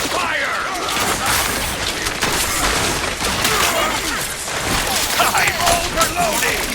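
Dense, continuous gunfire and explosive bursts in an Overwatch match as a turret comes under attack, loud and busy throughout the clip with chaotic game effects layered together.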